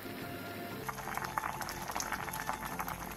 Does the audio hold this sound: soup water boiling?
yes